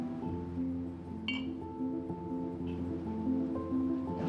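Whisky glasses clink together in a toast at a Japanese whisky tasting, giving a brief bright chime at close range over a quiet room.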